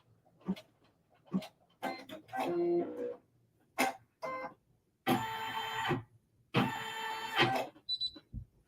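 An embroidery machine works on a mug rug in short mechanical bursts of stitching with gaps between, close by, with two longer, louder runs toward the middle; a person is heard speaking between the bursts.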